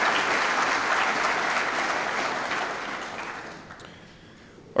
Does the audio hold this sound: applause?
yes